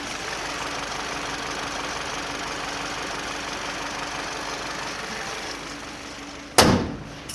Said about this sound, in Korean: 엔진음은 어떨지 한번 듣고